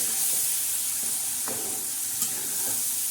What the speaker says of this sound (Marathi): आपण आपला हा काळा मसाला वाटलेला टाकायचा आणि छान असा हलवून घ्यायचा